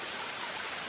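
Rain falls steadily on a wooded hiking trail along the Appalachian Trail, a dense, even hiss of drops close by with no other sounds.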